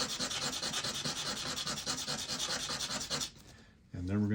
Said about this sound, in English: So do a quick sand